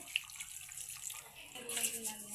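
A brief stream of water runs into a pot of goat head curry, a soft steady splash close by.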